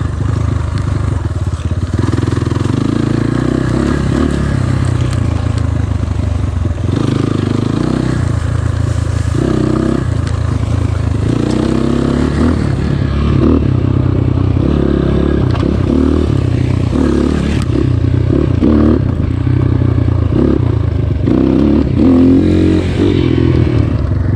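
A GPX FSE 250 E dirt bike runs continuously along a wooded trail with log hops, its engine droning loud and close as it pulls from second gear, with rattles and scrapes from the rough ground.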